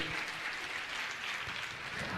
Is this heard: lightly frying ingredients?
no